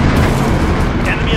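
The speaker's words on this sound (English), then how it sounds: "Allied cluster strike incoming!" Loud, dense rumbling blasts from a cluster strike in Call of Duty Modern Warfare, a continuous wall of booming explosions lasting the whole moment, close and overpowering.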